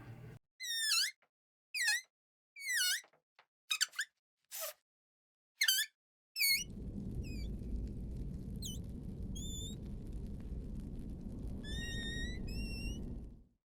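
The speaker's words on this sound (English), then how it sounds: "It is so interesting to see helium being taken out of a balloon that gives the bats in-game a realistic aspect." Sharp high-pitched squeaks and chirps, made by letting helium out of a balloon, sound like cave bat calls for Hytale; they come in separate bursts, then a steady hiss of escaping gas runs under further squeaks.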